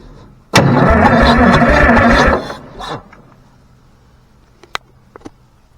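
The engine of a Cat D6B bulldozer is turned over in a loud, close burst of cranking roar lasting about two seconds. It trails off into quiet with a few sharp clanks and clicks afterward.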